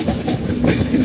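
A train runs on the rails between Sakleshpur and Subramanya, giving a steady rumble with soft rhythmic clicks, heard alone from on board.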